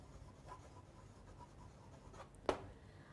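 Chalk or marker scratches and taps on a board during a biology lecture on human reproduction, a few soft strokes ending in one sharp, louder tap, with faint room noise and no speech.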